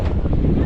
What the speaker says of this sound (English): Ooh, kind of windy here today.